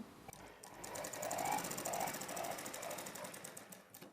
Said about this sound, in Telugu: ఇక్కడి నుండి ఇలా క్రాస్గా కుట్టు వేసుకోవాలి